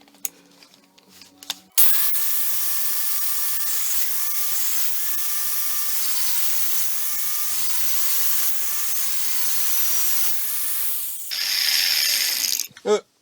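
Loud, continuous angle grinder cutting through steel plate to join two holes on a Darth Vader wood burner build, a steady high whine holding for about nine seconds before shifting pitch and cutting off.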